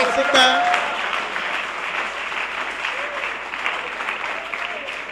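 A church congregation applauding during a sermon, with steady sustained clapping from a crowd, plus voices and cheers mixed in.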